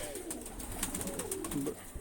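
Pigeons coo softly and repeatedly close by, a low throaty warble over faint background rustling.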